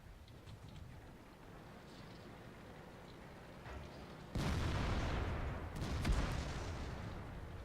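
Gunfire from tanks in World of Tanks rumbles under a steady low background din, then a heavy, close blast breaks in and leaves a dense, sustained roar of shooting and impacts.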